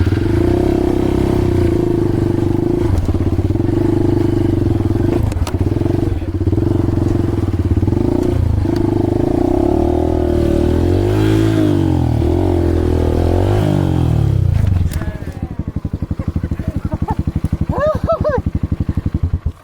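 A trail motorcycle engine starts up during a dirt bike outing in Jogja, running loud and close at a steady rumble, then dropping to a rougher idle as people talk nearby.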